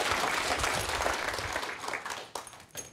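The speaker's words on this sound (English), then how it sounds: "That wasn't a big enough round of applause" An audience applauds after a talk on exercise and core strength, a dense round of clapping that swells briefly and then thins and fades over a few seconds.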